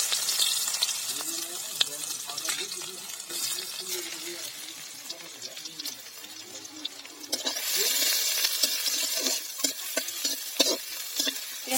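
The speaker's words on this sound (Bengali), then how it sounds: "পেঁয়াজটা ভেজে নেব।" Onions frying in oil until browned, for a potato chop and mash dish: a steady sizzle with stirring clatter and occasional water or tap noise, the frying growing louder and brighter in the second half.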